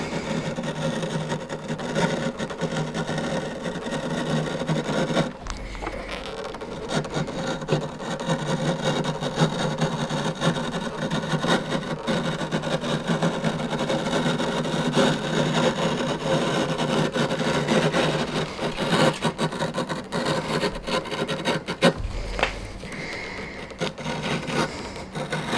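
Leather feeds through a manual skiving machine and is thinned, making a continuous close grinding, rasping hum that runs steadily, with brief dips and breaks between passes and no voices.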